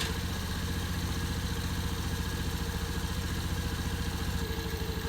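A 2022 Honda Navi with an intake mod and aftermarket air filter idles close by, a steady, loud, even engine chug that continues without a break.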